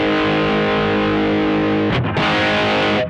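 Electric guitar played through a basic distortion pedal, a thick sustained distorted chord ringing loudly, briefly choked, then struck again and held.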